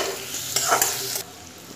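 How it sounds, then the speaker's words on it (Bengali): Onion and chopped tomato frying in a pan while being stirred for a fish curry, a loud close sizzle broken by a couple of scraping stirs. "পেঁয়াজটাকে দিয়ে এবার পেঁয়াজটাকে একটু ভাজা ভাজা করে নেব।"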